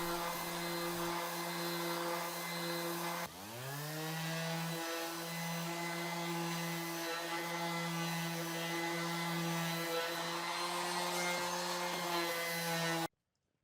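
A power sander works a wooden pyramidal keepsake box, its motor a steady, loud, tonal drone that briefly drops and spins back up partway through, then cuts off abruptly at the end.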